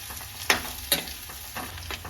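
Cashews, almonds, chopped ginger and garlic fry in a pan for masala, a low sizzle punctuated by a few sharp stirring scrapes and clinks close up.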